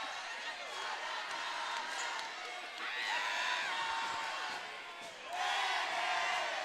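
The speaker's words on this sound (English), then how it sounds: "As you hear the crowds." Basketball crowd at a boys' high school game between Hampton Crabbers and Bethel Bruins cheering after a buzzer-beating three-pointer, a steady roar of voices with a couple of louder swells.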